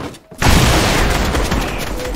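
Loud, dense gunfire from a hand cannon in a video game bursts out after a brief lull and continues as a sustained, noisy barrage.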